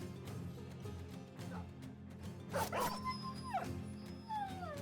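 A dog in the game Battle Brothers gives a few short yips and barks among clashing combat effects and a steady low game soundtrack, fairly faint overall.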